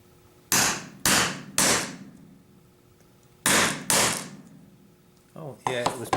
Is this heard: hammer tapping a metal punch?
yes